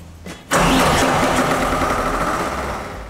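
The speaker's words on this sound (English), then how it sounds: "There's an additional motor installed for this purpose. We call it the diesel generator, and we have to check it every single morning if it works." A diesel generator engine for the Efteling observation tower ride cranks briefly, then catches and settles into a loud, steady running roar that fades slightly as it idles, close by.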